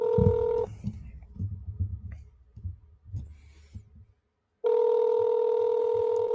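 Phone call on speakerphone, steady ringback tones at the start and end with a pause between, low thumping and faint talk in the background.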